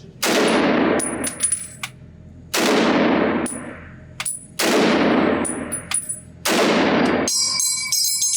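Four loud rifle shots from a 1945 Springfield Armory M1 Garand at an outdoor range, each a sharp blast with a long decaying echo, spaced about two seconds apart, followed by metallic clinks and a final bright ringing ping.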